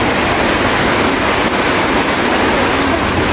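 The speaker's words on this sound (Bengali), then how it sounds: "বৃষ্টি হচ্ছে, বৃষ্টি।" Heavy rain pours steadily outside a house, a broad unbroken wash of noise at close range and even loudness, with no talking.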